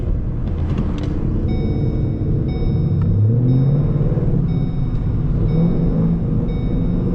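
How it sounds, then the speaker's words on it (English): A Gen 2 Ford Mustang S550 idles with a deep rumble and gives a small, brief rev that rises and falls, heard from nearby at a car meet over a steady low drone. "Give him a little baby rev."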